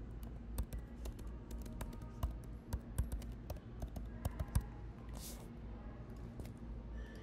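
Typing on a computer keyboard while lettering a design for a printed shirt, a scatter of close, uneven key clicks and taps over a low steady hum, with faint talk in the background.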